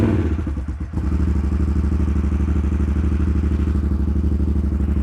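Harley motorcycle, low on fuel, cranks with a quick rattling starter clatter, then catches and settles into a loud, steady, loping idle with a rhythmic low-end thump, close by and with no talk over it.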